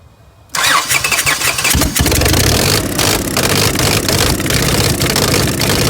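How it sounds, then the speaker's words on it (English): A 2003 Honda 3.5-liter V6 with a bank 1 misfire cranks briefly and catches, then settles into a loud, steady running close by with rough clattering texture, no talking. "crank the engine"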